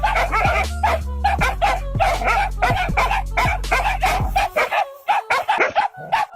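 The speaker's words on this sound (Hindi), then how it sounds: "एक मॉनिटर लिजार्ड को कुत्तों के झुंड ने घेर लिया, एक आगे से खींचता तो एक पीछे से।" A pack of dogs barks in rapid, loud, overlapping bursts while attacking a monitor lizard, with yips and whimpers breaking through near the end.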